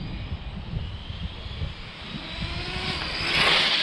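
A WB12PRO RC car on its stock motor runs at full throttle, a high, droning electric whine that rises and grows louder toward the end as it speeds past.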